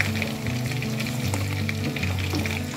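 Hyderabadi baingan curry, eggplant in a spiced gravy, cooking on a low flame, giving a steady, close sizzle that runs unbroken over a low tonal hum, with no voices.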